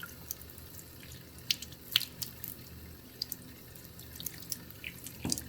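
Tap water trickling and dripping while salt-packed sausage casings are rinsed in a sink, faint and close with scattered small splashes.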